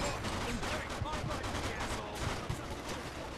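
Gunfire in the Mafia 2 video game, rapid bursts of shots mixed into a busy, dense game soundscape at moderate level.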